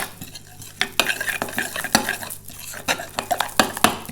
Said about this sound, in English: I'm just going to mix that up what I've got so far.